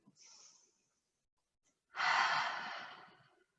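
A slow breath held in a gentle yoga pose, a short soft inhale followed after a pause by a longer, airy exhale that fades out, close and quiet with no talking.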